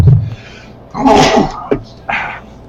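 A single loud, sharp sneeze bursts out up close, followed by a brief breathy sound.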